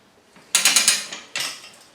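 Rabaconda portable tire changer working on a dual sport motorcycle front tire, giving loud metallic ratcheting clicks: a quick burst of four or five sharp clacks, a pause, then another clack, close and with no talking.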